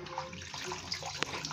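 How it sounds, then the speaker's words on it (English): Pumpkin leaves being washed by hand in water, with soft sloshing and light splashes and one brief sharper splash, fairly quiet and close. "this one I'm washing now is the pumpkin leaf"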